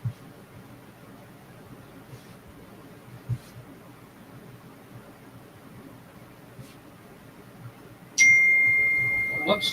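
A phone's notification chime rings out near the end, a bright, close electronic tone cutting through an otherwise quiet indoor room with faint rustling.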